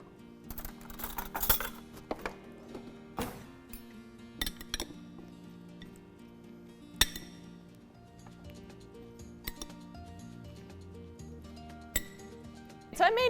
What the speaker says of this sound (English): let's go ahead and give it a stir.